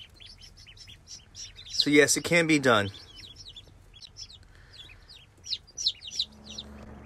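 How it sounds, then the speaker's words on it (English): Ducklings and chicks hatched from incubated eggs chirp together in a brooder, a steady scatter of high peeping throughout with a brief burst of talk partway through. "we have the ducks and the chickens together"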